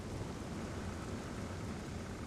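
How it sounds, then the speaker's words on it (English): Rain pours with a low thunder rumble in the Zelda: Skyward Sword video game, a dense, even wash of sound filling the whole stretch with no talk over it. "It's raining too."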